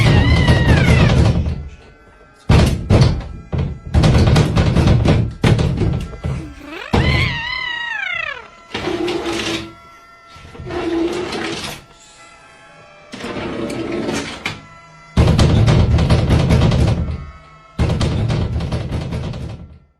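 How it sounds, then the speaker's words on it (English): Heavy thuds slam against the walls of a shelter in repeated loud bursts separated by short silences, with a wailing, pitch-sliding cry rising between blows. "Heavy thuds slam against the walls as if something is trying to break in."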